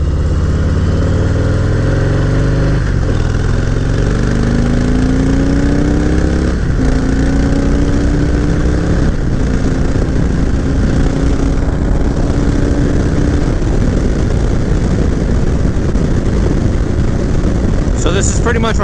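Harley-Davidson motorcycle with a Milwaukee 8 engine running loud and close, a deep continuous rumble whose pitch rises and falls as it revs, steady throughout.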